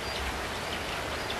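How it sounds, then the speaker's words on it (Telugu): Light drizzle falls over a hill village, a steady soft hiss of fine rain with no talk. It is even and continuous, faint and diffuse. "ఇలాగ చినుకులు పడడం ఆగడం అలవాటైపోయింది"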